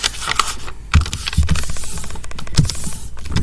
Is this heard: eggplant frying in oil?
no